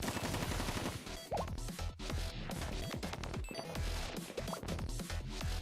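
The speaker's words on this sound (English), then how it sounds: "we heard gunshots" Gunfire in the video game Blue Archive: dense, continuous bursts of shots and impacts layered with music and effects, loud throughout with no breaks.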